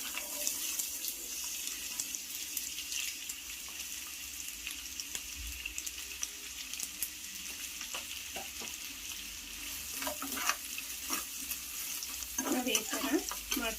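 Onions sizzle steadily in hot oil in a pan as egg fried rice is prepared, a constant bright frying hiss with a few clinks and stirring noises toward the end.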